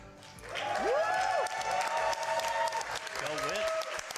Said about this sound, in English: So let me hear it out there in the crowd for Whitman.